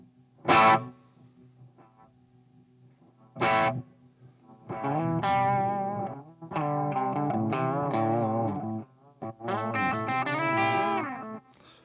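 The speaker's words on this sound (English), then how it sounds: "Сейчас мы винтажную задержку включаем и будем смотреть, как она работает." Vintage tape echo guitar pedal switched on, heard as two sharp plucked notes followed by sustained distorted guitar phrases with repeating echoes, played alone and fairly loud.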